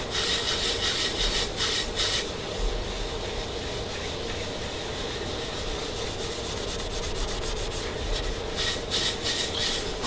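Cloth rubs black cherry stain into a wooden double-neck Telecaster-style guitar body. The close, steady scrubbing runs continuously with a rasping texture, and no one speaks.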